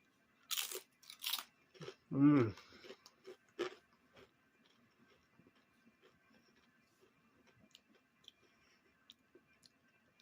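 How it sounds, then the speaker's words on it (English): Crisp crunches of Mrs. Fisher's potato chips being bitten and chewed, several loud close bites early on, then quieter chewing fading into near silence. "let's try one, and let's listen to the crunch"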